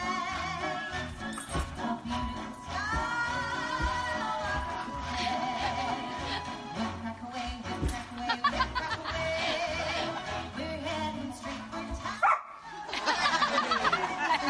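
A dog barks and yips along to quickstep dance music playing on a television, the lively band tune loud and continuous with the dog's sharp calls mixed in.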